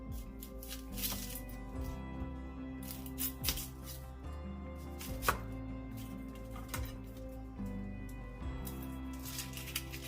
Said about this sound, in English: Now we're going to just finely chop this.